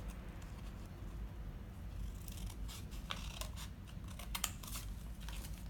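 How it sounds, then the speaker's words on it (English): Scissors snipping into the corners of a folded paper square for an origami box, a series of short crisp cuts from about two seconds on, close, over a low steady background hum. "And then you need to cut the corner"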